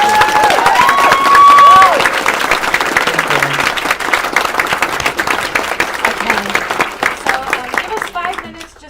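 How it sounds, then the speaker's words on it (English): A book tour audience in Okemos, Michigan applauds steadily, dense clapping filling the whole stretch with a few cheers mixed in, tapering slightly toward the end. "how about a big round of applause for Jeffrey?"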